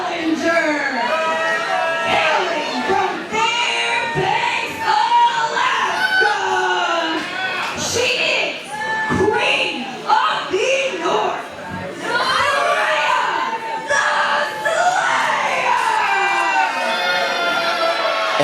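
A women's wrestling crowd cheers and yells during a championship match at an EMERGE Wrestling event, with dense, overlapping shouts, whoops and high-pitched screams rising and falling in loud waves.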